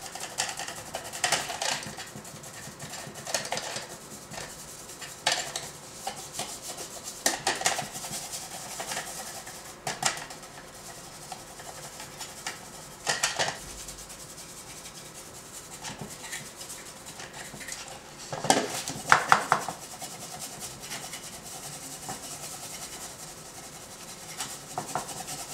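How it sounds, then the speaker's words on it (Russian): Paint is rubbed onto an airsoft gun magazine to give it a worn, aged finish. Soft, intermittent scrubbing strokes come close up in irregular bursts, with no voices. "Теми же известными вам движениями начинаем наносить краску."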